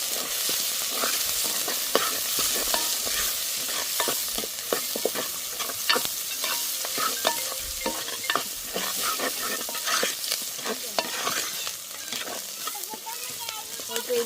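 Small onions sauté in a pan for a kumbila fish curry with brinjal, giving a steady, close sizzle broken by frequent scraping stirs, with no talking.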